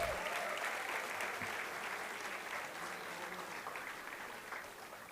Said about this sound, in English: So a huge round of applause for all of you present here today.